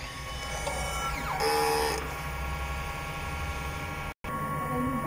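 A DTF printer's mechanical whirring and motor hum, with a brief higher-pitched sweep and a rising tone as the head moves through its cleaning cycle.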